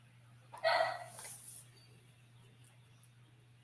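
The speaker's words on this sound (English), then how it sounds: "is barking at treats" A single short dog bark or yip near the start, followed by quiet room tone with a low steady hum.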